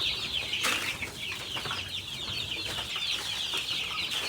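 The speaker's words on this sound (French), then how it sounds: "Donc de l'autre côté, il y a les poulets de chair et de ce côté, les tyroliers." Chickens cluck steadily in a poultry farm house holding broiler chickens and other birds, a dense, close chorus of many hens with occasional wing flaps and no talking.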